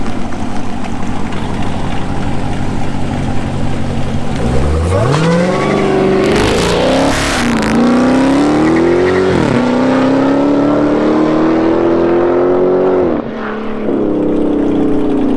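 A car in sport mode spinning its tires on worn tires, engine note climbing into a loud, sustained rev with whining pitch slides and a brief burst of tire noise, very close and dominant throughout.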